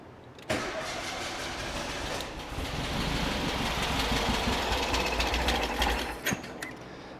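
Air-cooled 1760cc engine of a 1973 VW Super Beetle with dual 40 carburetors and new exhaust fires up abruptly and runs loud and rough, revving steadily, then briefly blips near the end.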